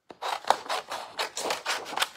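Scissors snipping through gray granite cardstock, a close, steady run of about eight crisp cuts in even rhythm, each a short rasping crunch, heard alone without talk.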